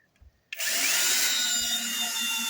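A Grosser GCD 16/42 cordless screwdriver starts abruptly and runs at a steady high-pitched whir while driving a screw, loud and close, after a brief quiet moment.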